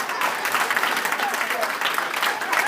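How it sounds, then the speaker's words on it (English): Audience clapping at a CLH Foundation event fills the room in a steady, moderately loud wash, with a faint voice or two mixed in underneath. "I was gonna come up to some claps"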